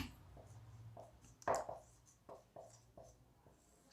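Pen or chalk writing out a definition, with faint, separate scratchy strokes coming in a loose rhythm and quiet room tone between them.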